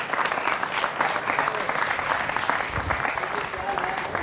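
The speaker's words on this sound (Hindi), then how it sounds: "जोरदार तालियों के साथ उनका अभिनंदन है" Loud, sustained applause from a crowd welcoming an Aam Aadmi Party spokesperson at a political gathering, steady clapping filling the whole stretch with a voice heard over it.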